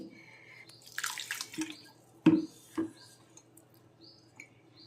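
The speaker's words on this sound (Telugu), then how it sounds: "కొంచెం దీనిలో చల్లటి నీళ్ళు పోసి చేతితో పిసుకుంటే ఇట్లా నీళ్ళు పోయాలి" Cold water poured by hand over raw mango pulp gives a few sparse splashes and drips, with two sharper wet plops in the middle over a quiet background.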